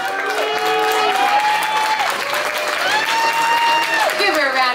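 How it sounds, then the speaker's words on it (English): An audience at a pinup contest applauds steadily for a contestant, with dense clapping throughout and a live musical backing of sustained tones playing alongside. "Give her a round of applause."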